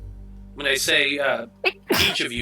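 A single sharp sneeze bursts out among several people talking during a tabletop role-playing session, briefly cutting through the voices before speech resumes.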